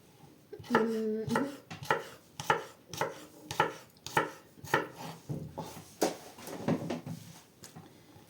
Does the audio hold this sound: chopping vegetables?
yes